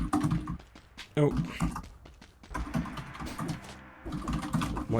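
Steady computer keyboard typing clatters close by during a Dead Cells gaming session, with rapid key clicks running under people talking.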